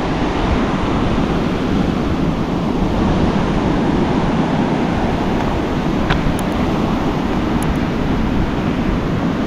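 Sea waves wash steadily onto Thupilipalem beach, a constant loud roar of surf with some wind buffeting the microphone, and no voices.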